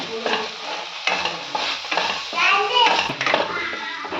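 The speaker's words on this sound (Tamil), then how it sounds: "அப்புறம் கொஞ்சம் ஜீரகப்பொடி அப்புறம் கொஞ்சம் கரம் மசாலா இதெல்லாம் கொஞ்சம் நல்லா வதக்குங்க" Cumin powder and garam masala, with turmeric and coriander powder, are stirred and sautéed in a pan for a Mutton Kola Urundai Kuzhambu, giving a steady close frying sizzle with spoon scrapes and a voice talking over it.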